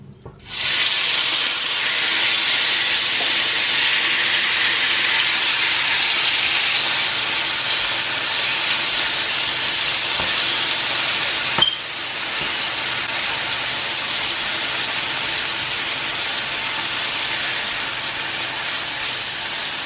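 Steady, loud sizzling hiss of marinated beef frying in a hot pan, continuous throughout with a brief click partway through.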